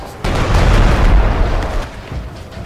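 A heavy cannon blast booms in the stealth strategy video game Shadow Tactics, a loud, deep explosion that rumbles for about two seconds before fading.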